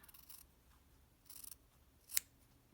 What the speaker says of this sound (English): I'm going to take my scissor and trim off the back